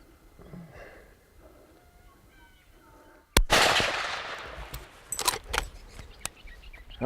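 Two sharp .375 caliber rifle shots ring out one after another, loud and close, followed by a few clicks and handling knocks, after quiet outdoor background with faint talk.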